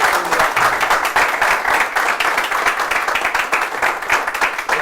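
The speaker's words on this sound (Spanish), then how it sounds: "un gran aplauso para José La Luz" Audience applause for a guest at a panel talk on personal empowerment held at a municipal youth center, dense and sustained clapping throughout, loud and close with no voices over it.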